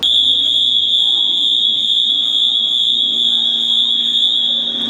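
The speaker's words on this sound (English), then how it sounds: "probably tripped on the alarm or like opened a door that they shouldn't have in the building" A building alarm sounds as one loud, continuous high-pitched tone, steady and unbroken throughout, over a faint background rumble.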